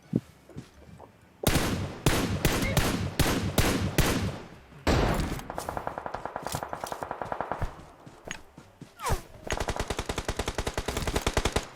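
Gunfire in the PUBG Mobile video game: bursts of single shots followed by long rapid automatic volleys, sharp and loud, with short pauses between bursts.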